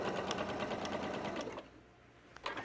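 A home sewing machine runs a standard straight stitch on scrap fabric with a steady, rapid rattling whir, stops abruptly, then restarts with a short burst near the end.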